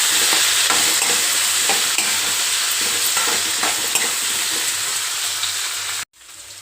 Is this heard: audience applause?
no